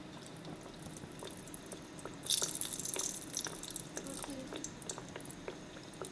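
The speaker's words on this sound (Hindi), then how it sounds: "टिक्कियाँ रेडी हैं, अब मैं इन्हें फ्राई कर लूँगी।" Sweet tikki patties deep-frying in hot oil over a low flame give off a soft, steady bubbling sizzle with a brief louder crackle as more go in, under someone speaking.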